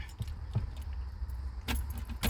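Car keys jangle inside a 1990 Volkswagen Golf GL MK2 in a few soft, quick metallic jingles, with a louder cluster toward the end, over a quiet interior hush.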